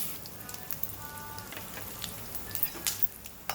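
Coriander seeds dropped into a spoonful of hot oil while making sesame spice powder, a soft continuous sizzle with light crackles and pops near the end, fairly quiet and close, no voices.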